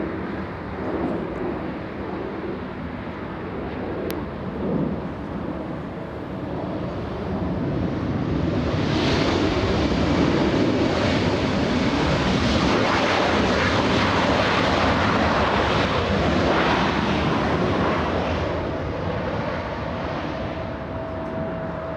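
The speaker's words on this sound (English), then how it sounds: "Delta's 848, flying in from Portland" Delta flight 848 from Portland arrives at LAX as a jet airliner roar builds from a distant rumble into a loud, sustained broadband engine noise passing overhead, no talking.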